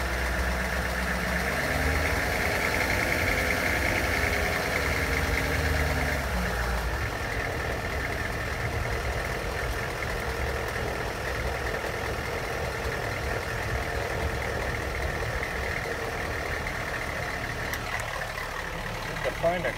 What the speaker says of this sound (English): Definitely hear the turbo.